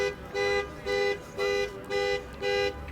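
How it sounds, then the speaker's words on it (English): An outdoor alarm on a waterfront sounds in five evenly spaced tonal blasts, each lasting about a third of a second, loud and close with brief gaps between them. "somebody's alarm went off"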